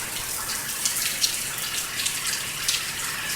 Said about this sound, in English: You see how that water flowing up that building like that